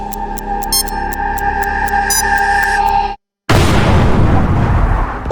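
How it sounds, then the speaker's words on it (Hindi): Steady electronic tones and beeps cut to a moment of silence, then a loud cartoon bomb explosion roars and rumbles on. "क्या धमाका था।"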